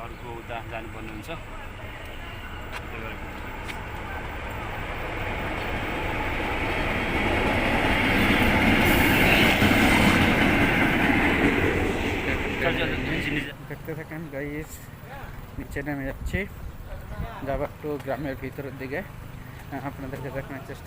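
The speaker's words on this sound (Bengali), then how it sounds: "একটা ট্রেন আসছে এই যে ট্রেন আসছে এটা সম্ভবত একটা ইঞ্জিন" A lone train locomotive without carriages rumbles past in rural Malaysia, building to a loud roar and then fading into rattling and clatter, with people talking throughout.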